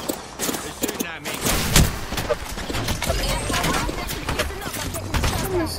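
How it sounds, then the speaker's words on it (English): Gunfire in Apex Legends, with rapid, overlapping shots and crackling impacts packed densely throughout the match action, under a player's voice. "They're shooting at me."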